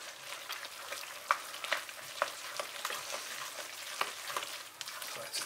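Soft scraping and stirring as egg mixture is stirred into hot pasta over a faint sizzle, with irregular clicks of a utensil against a pan, quiet and close.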